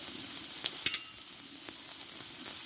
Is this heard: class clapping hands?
no